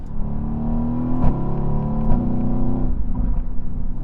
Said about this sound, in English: And that 7-speed dual clutch, it is seamless. The shifts, as you can hear, are lightning fast.